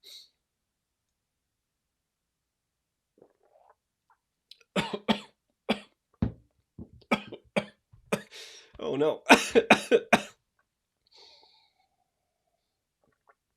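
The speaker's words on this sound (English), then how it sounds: "the water isn't supposed to make you cough" A burst of harsh coughing after drinking water, several quick coughs in a row after a quiet pause, with a brief exclamation mixed in.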